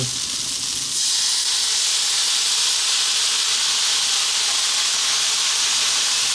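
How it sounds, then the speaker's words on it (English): Steady loud hissing of steam and sizzling water in a hot pan steaming broccoli, constant throughout with no voices. "enough to kind of help the broccoli steam just a tad"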